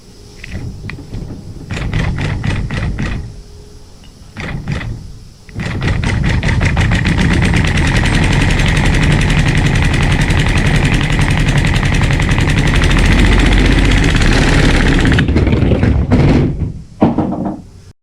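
A small single-cylinder plastic pneumatic air engine sputters in a few short bursts, then runs steadily with a rapid, buzzing chug at close range before cutting out near the end.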